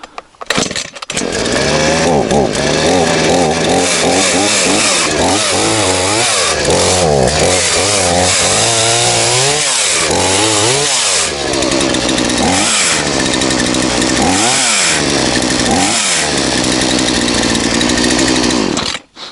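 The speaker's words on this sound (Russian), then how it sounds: "Что-то пила непонятно работает." A chainsaw roars loudly and continuously nearby, its engine pitch rising and falling repeatedly as it revs and cuts.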